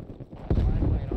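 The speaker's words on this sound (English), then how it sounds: "That's Nick that brought out the grenade launcher." A grenade launcher round explodes in a video game, a sudden close boom that cuts in mid-clip and leaves a rumbling tail, with voices talking around it.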